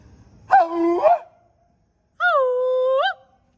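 A person howls in imitation of a wolf, coming out more like a dog's bark: two separate voiced calls, the first short and rough, the second a longer, steady tone, each fairly close and clear with quiet between them.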